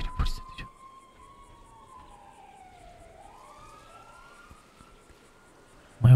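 A police car siren wails in the FiveM game, its rising and falling sweeps fairly faint and steady throughout, with short bursts of noise at the very start and end.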